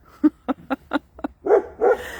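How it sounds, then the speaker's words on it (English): Dog barking close by, a quick run of five sharp barks followed by two longer, drawn-out yelping barks. "And she still barks at them."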